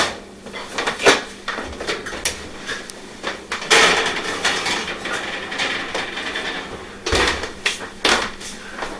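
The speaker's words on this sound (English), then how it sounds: "So let me go ahead and put it on a pan." Clattering kitchen sounds as a cheesecake crust is set onto a baking pan, with several sharp metallic knocks and scrapes of pan against counter amid quieter handling noise.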